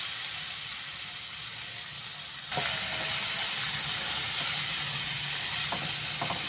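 Chopped onions, two finely cut, hit hot oil with cumin and curry leaves for a besan vadi rassa, bursting into a loud, steady hiss that jumps up partway through and holds, with faint clinks of a spoon.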